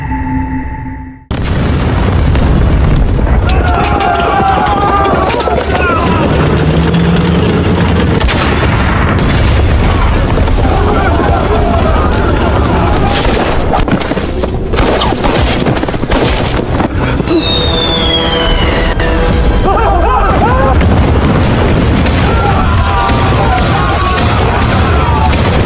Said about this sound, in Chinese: 继续扔，不要停，把这些手雷全部扔干净为止。